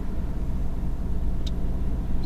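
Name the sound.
car driving past and overtaking on the road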